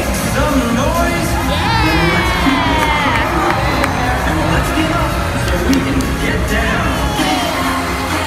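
A large crowd in London cheers, whoops and shouts steadily throughout, with children's voices mixed into the dense, loud roar of noise.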